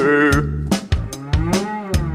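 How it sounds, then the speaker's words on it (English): A cow moos in a series of loud, close, drawn-out lowing calls, several in quick succession, heard alone with no talking. "I stand around in the field all day, and it gives me plenty of time to say moo, moo"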